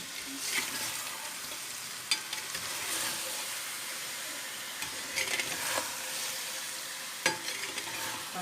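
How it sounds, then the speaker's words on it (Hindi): Chicken frying in a pan for a white korma, sizzling steadily with occasional stirring scrapes and clicks, fairly quiet and close, no voices. "जब तक चिकन फ्राई होता है"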